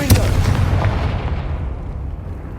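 A Confringo fire spell in Hogwarts Legacy detonates as a single loud, close explosion: a sharp initial blast followed by a deep, rumbling boom that fades slowly over a couple of seconds.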